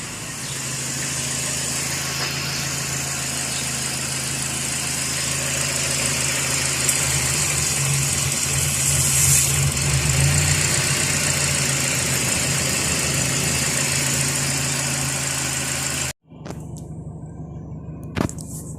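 A 2003–2006 Toyota Vios engine idling steadily after a fix for stumbling and jerking, a continuous even rumble with slight vibration, close by, before cutting out abruptly near the end.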